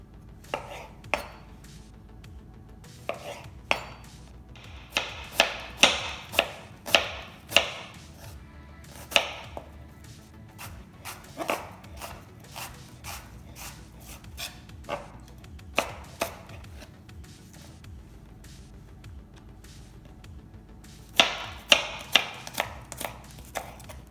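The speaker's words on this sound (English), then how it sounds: "All this onion, we're going to slice it and put it in this salad" A knife slices onion on a cutting board for a cucumber salad: crisp, close chopping taps come in quick irregular bursts with short pauses, alone without talk.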